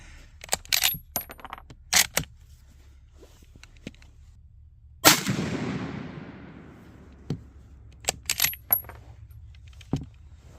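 A Lee-Enfield No. 4 MK1 rifle in .303 British fires one loud shot that trails off into a long rumbling echo. Small metallic clicks and handling noises come before and after it in an otherwise quiet setting.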